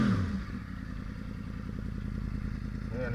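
A 2010 Yamaha R1 sport motorcycle idles steadily nearby, its engine giving a continuous low, even rumble with light mechanical clatter throughout.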